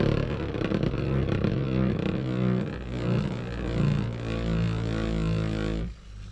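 A Vanish Fafnir Beyblade spins in a stadium after launch with a steady, close whirring whine. The sound wavers slightly as the top circles, then cuts off abruptly near the end.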